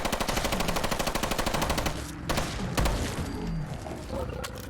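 A BRN 180 AR mod in Fallout 4, fully upgraded, fires a rapid fully automatic burst of evenly spaced loud shots for about two seconds, then a few heavier blasts and impacts ring out amid game noise.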